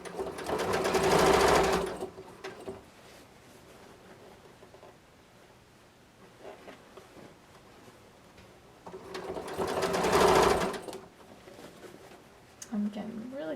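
A sewing machine stitches bias tape binding onto a quilted vest armhole in two loud bursts, one at the start and one near the end, with a quiet stretch of handling noise between them.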